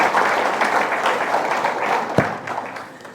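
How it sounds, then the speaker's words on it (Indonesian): An audience at a public planning socialisation meeting applauds, sustained dense clapping that slowly thins toward the end, broken by a single sharp knock. "mari kita beri tepuk tangan untuk semua yang terlibat di proses ini"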